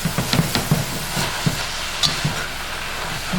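Collard greens cooked down with spices, tomatoes and peppers being stirred in a pan, a spoon scraping and tapping in a steady repeated rhythm over a soft continuous sizzle, close and fairly quiet, with no talking.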